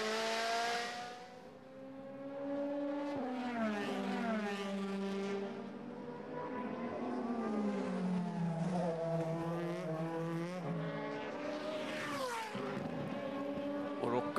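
DTM race cars at Zandvoort in 2008, engines wailing loudly with rising and falling pitch as the cars accelerate and sweep past, under a steady layer of commentary talk.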